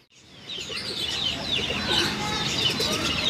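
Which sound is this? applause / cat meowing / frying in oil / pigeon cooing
pigeon cooing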